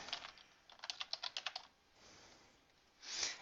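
Typing on a computer keyboard: a quick run of about eight crisp keystrokes, followed by softer rustling and a louder click near the end, close and quiet with no talking.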